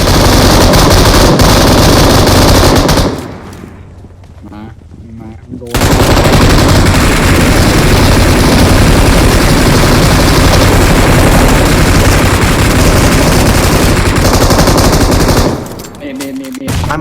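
Loud, dense automatic gunfire from the video game PUBG Mobile rattles almost without pause, breaking off for a couple of seconds before resuming just as heavily, with scattered game chatter underneath.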